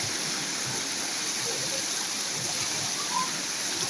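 Water rushing steadily down Kannimar Odai stream near Salem after heavy rain, a broad continuous roar of flowing water heard up close with no breaks.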